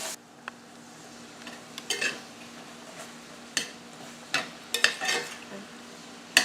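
Sausage fries in a pan for a sausage muffin while a spatula breaks it into pieces. A soft sizzle continues underneath, and irregular sharp taps and scrapes of the spatula on the pan come close and clear, with no speech.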